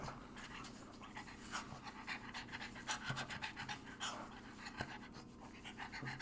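A dog pants steadily and rapidly up close, quick rhythmic breaths running through the whole stretch with no talking.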